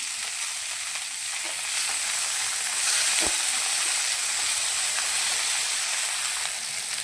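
Okra cooking in a pan for a creamy yogurt bhindi dish gives a steady, close sizzle and frying hiss. Faint stirring and scraping are mixed into it, with one sharp tap near the middle.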